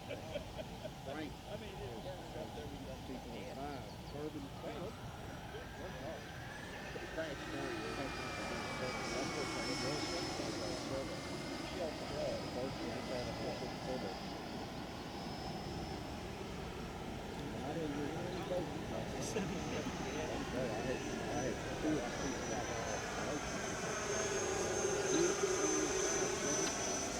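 An E-flite Viper 90mm electric ducted fan RC jet flies overhead with a steady, high-pitched whine that rises and falls as it passes, carried over continuous outdoor talk and wind noise.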